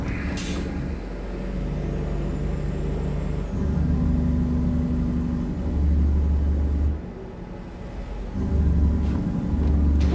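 Truck engine brakes in American Truck Simulator, a loud, deep, throbbing rumble that swells and drops in several stretches as the truck slows, with a brief lull partway through.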